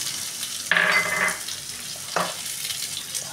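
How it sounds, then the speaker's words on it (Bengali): Dried red chillies, whole cumin and chopped onion hit hot oil, a loud sizzle bursting up then fading, followed by a second brief burst as they are stirred, close by with no talk. "দুটো শুকনো লঙ্কা, গোটা জিরেটা আর পেঁয়াজ কুচিটা ভেজে নেব।"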